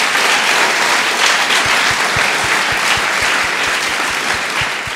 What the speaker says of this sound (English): another round of applause, please, for their good work